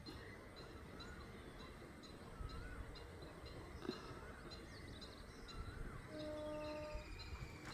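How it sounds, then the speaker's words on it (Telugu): A train rumbles past at a distance in a green outdoor spot, a low steady roll with faint whistle-like tones, quiet and with no talk over it. "ట్రైన్ సౌండ్ వినబడుతుంది."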